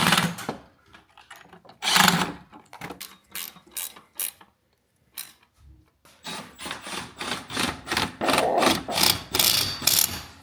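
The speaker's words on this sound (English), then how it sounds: "The more expensive ratchets have way more gears in them." A ratchet wrench clicks in rapid bursts during a DIY oil filter housing and cooler replacement on a 2012-2018 Jeep Wrangler JK, with repeated close ratcheting strokes separated by short pauses.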